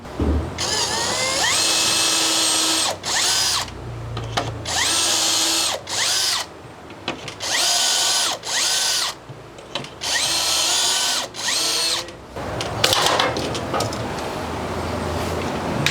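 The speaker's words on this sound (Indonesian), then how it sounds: "kita akan lubangi lagi dia sebanyak 4 ya, supaya banyak lubangnya jumlahnya sama dengan kiri dan kanan" A power drill bores shelf pin holes through a Kreg shelf pin jig in loud whining bursts, about eight on-off runs with brief pauses between, close up and with no voices.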